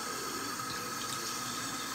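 Hot water runs steadily from a tap into a sink for hand washing, a close, even, continuous rush with no talking.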